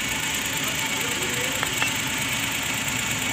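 A Japan surplus multicab engine idles at roughly 980 RPM in a steady, even drone, with a couple of faint clicks partway through and no talk.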